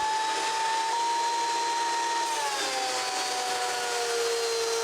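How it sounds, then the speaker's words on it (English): An IGM planer thicknesser with a spiral cutting head runs through a walnut slab, giving a steady loud whining drone with a tone that dips slightly partway as the cut proceeds, with no talking. "I'm just using my new planer thicknesser from IGM. It's got the spiral cutting head and it's making easy work of this walnut slab."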